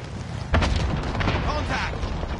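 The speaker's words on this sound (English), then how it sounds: "Enemy cluster strike incoming. Take cover." Cluster strike explosions in a video game, a sustained rumbling barrage of booms that kicks in sharply after a brief lead-in, loud and close with voices partly over it.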